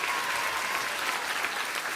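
Crowd applause for a rapper, a dense, even wash of many hands clapping at moderate volume without a break, with no speech over it.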